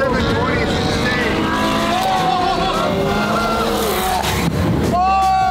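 A McLaren 720S sports car passing by loudly, with a roaring engine note that rises and falls, possible tyre squeal, and a few excited voices over the top.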